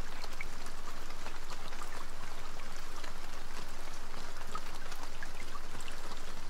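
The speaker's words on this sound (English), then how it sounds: "Oh, don't stop raining." Steady rain falls in the survival video game Escape The Pacific, a dense, continuous hiss of drops pattering on surfaces that holds even and fairly close throughout, with no voices over it.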